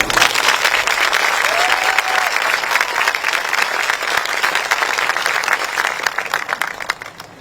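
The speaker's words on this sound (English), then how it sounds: "A round of applause, please." Sustained applause from a large crowd at a high school graduation ceremony, dense and steady for several seconds before starting to thin out near the end.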